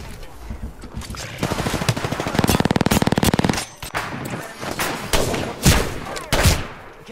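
Rapid automatic gunfire from a firefight in Apex Legends rattles in sustained bursts, a long loud volley in the middle followed by scattered single shots and short bursts, with a few faint voices.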